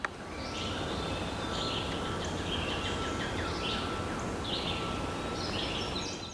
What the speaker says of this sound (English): There must be 6 or 8 different kinds of birds right now.